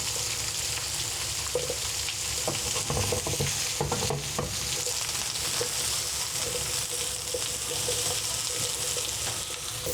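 Daikon radish sears in a pan for a sumo-style chicken meal, making a continuous hissing sizzle up close. A cluster of clatters and scrapes comes near the middle, with no speech.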